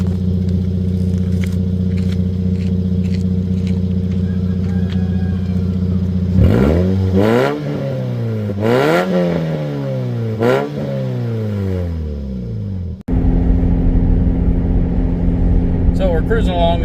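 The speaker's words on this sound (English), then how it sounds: "I'll set the phone here and give it a couple revs." A 2010 Toyota Yaris with its muffler removed idles steadily, then revs several times in sharp rising and falling sweeps, loud and raw, before settling back to a rough idle.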